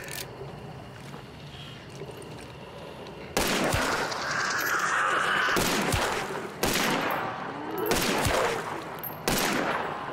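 Loud, echoing pistol shots in Hunt: Showdown, spaced several seconds apart after a quieter opening, each crack ringing out against outdoor ambience.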